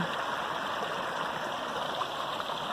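Water flowing at a desert spring in the American Southwest, a steady, even rushing and trickling of moderate loudness with no talk.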